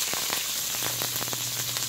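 Chopped onion frying in three tablespoons of hot oil in a preheated saucepan, a steady dense sizzle with crackling pops scattered throughout, close and even, no voices.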